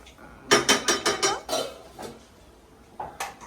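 A utensil clinks rapidly against a dish while ingredients are mixed for chicken curry, a burst of six quick taps close by, then a pause and two more taps.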